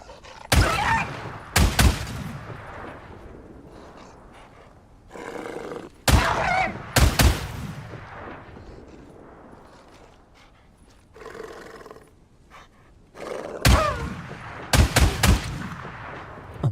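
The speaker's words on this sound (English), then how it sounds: "Love the auto shotgun. Truly is my favorite weapon in the game." An auto shotgun in the video game Days Gone fires in loud, booming blasts, often in quick pairs or triplets, separated by quieter stretches with distant growls and game ambience.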